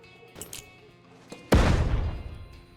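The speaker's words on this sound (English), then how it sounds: "We're going to get a flashbang into this room." A flashbang goes off in a room during a Door Kickers 2 tactical clearing mission: a few faint clicks and shuffles, then one sudden loud bang whose blast rings out and slowly decays.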